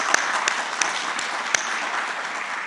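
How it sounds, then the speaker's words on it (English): Audience members at a global media forum applaud in a steady patter, with a few sharper isolated claps standing out in a brief burst. "I think that deserves a round of applause"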